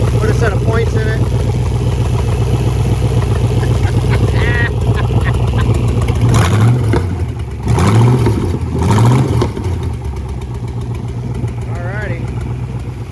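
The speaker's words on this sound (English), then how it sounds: "first start after 30 years. Been running about 10 seconds on an old tune-up." A 1967 Chrysler Marine 318 V8 rated at 210 horsepower, running on its first start in decades with an old tune-up, holds a loud, throbbing idle with a few revs, while someone speaks briefly nearby.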